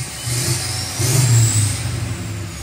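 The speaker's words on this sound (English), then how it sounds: "listen to that sound of no exhaust" A diesel L5P Duramax pickup truck engine with its exhaust fully deleted revs up close, a raw, gruff roar that swells briefly and then settles back to a rumbling idle.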